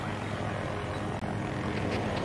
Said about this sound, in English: the sound effects on that jet sound kind of wonky.